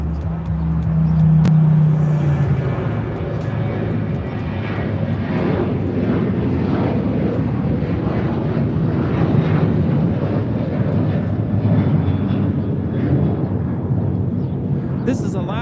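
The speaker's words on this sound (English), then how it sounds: "This is Alaska 1348 departing to Puerto Vallarta on the 737-800." Alaska Airlines Boeing 737-800 departing LAX for Puerto Vallarta, a powerful continuous jet engine roar rising at the start and rumbling steadily close by for the full length.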